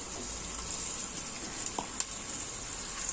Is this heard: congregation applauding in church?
no